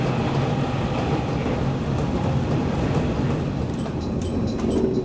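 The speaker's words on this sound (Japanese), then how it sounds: "福間駅では後から来る電車に道を譲る側のホームに入る。" A JNR-era Series 415 suburban electric train of twelve cars rolling into a platform at Fukuma Station on the Kagoshima Main Line, a continuous loud rumble of wheels and motors with faint rhythmic rail clatter, no talking.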